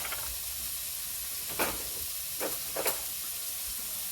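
Onions and peppers frying in a hot pan for chili, a steady soft sizzle with a few brief louder hisses and crackles as the vegetables are stirred, with no talk.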